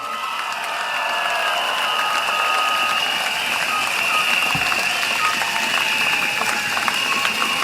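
Applause from a crowd at a political campaign rally in a stadium in Jurong West, a steady broad patter that runs for the whole stretch under a busy, continuous crowd murmur.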